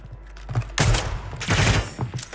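Loud, close gunfire in Call of Duty Warzone (Modern Warfare III, 2023): two dense automatic bursts of several rapid shots each, separated by a short gap.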